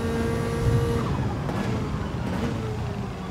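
Race car engine in the Gran Turismo 7 racing game, a loud continuous drone with rising and falling revs and shifting pitch throughout, heard alone.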